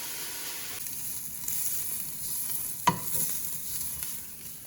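Chopped vegetables sweating in olive oil for lasagne, a soft continuous sizzle and crackle in the pan with one sharp clink near the middle, no voices.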